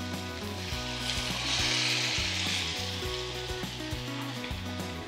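Cooked toor dal poured into a hot tempering with grated dried coconut for Maharashtrian phodnicha varan, a loud steady sizzle and hiss with bubbling, alone with no talk.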